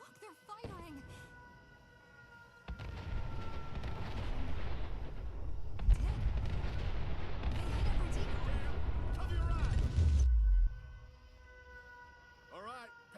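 Gunners open fire in the video game Fallout 4: after a quiet start, a sustained, rumbling barrage of shots and blasts rolls on for several seconds, then cuts off abruptly, leaving faint ambience.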